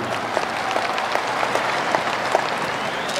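A crowd at a NasDem party rally claps in sustained, even applause that holds steady throughout, dense and moderately loud with no clear talk.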